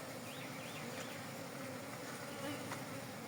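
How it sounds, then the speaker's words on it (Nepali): A captured swarm of honeybees gathered around their queen during beekeeping, giving a steady, dense buzzing drone that fills the whole clip at close range, with a few individual bees whining past. "मौरीलाई यसरी पोको पार्न सफल चाहिँ भइयो। रानो चाहिँ भित्र छ।"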